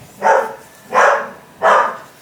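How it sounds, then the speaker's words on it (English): A dog barks three times in a steady, evenly spaced rhythm, each bark loud and close and followed by a brief pause. "there's going to be dog and construction noises"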